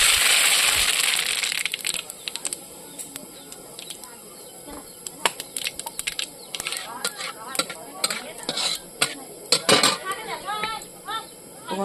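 Grains drop into a hot pan with dried chillies for tempering, bursting into a loud sizzle at first, then settling into scattered crackles, pops and spoon scrapes that come and go close by.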